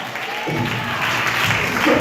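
A church congregation at a Telugu Christian worship service breaks into brief, steady clapping that fills the room for about two seconds.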